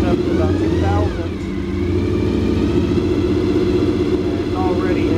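A motorcycle engine is revved up to about 2000 RPM, a loud, steady rumbling drone that dips briefly and then holds, close by with faint tonal whines riding on top.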